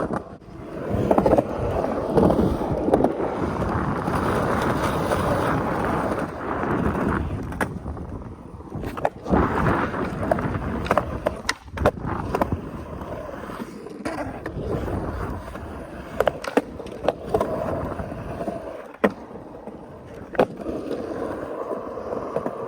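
Skateboard cruising along pavement, with a loud continuous rolling rumble of wheels, occasional clacks and bumps over cracks, and wind buffeting the microphone; no talking.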